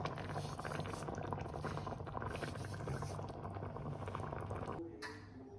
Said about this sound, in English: Sauce has been cooking for about 5 minutes on a low to medium flame, and we will keep doing so.